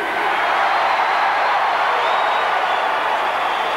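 A basketball arena crowd cheers for Andrew Gaze of the San Antonio Spurs, a steady, hissing roar of many voices that holds evenly throughout.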